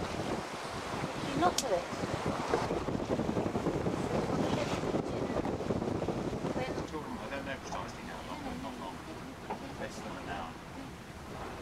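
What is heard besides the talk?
wind while sailing, engine off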